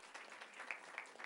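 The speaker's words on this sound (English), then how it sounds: "give them a big round of applause." Applause from an audience at a Franklin Township, New Jersey council meeting, a short, steady patter of many hands clapping at moderate distance, fairly quiet.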